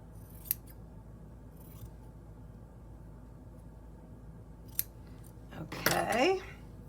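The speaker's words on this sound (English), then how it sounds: "and then we can trim the bottom because it is too long." Scissors trimming fabric for a sewn pouch: a few sharp isolated snips spaced apart, then a longer burst of cutting near the end, faint and close against a quiet room.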